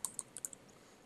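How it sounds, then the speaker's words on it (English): Quick, crisp clicks of a computer keyboard as a web address is typed, several light keystrokes in an uneven burst close to the microphone with no talking. "you want to type in the link that you see me typing here"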